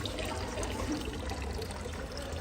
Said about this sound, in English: With fountains, flowing clean water from the mountains of Bavaria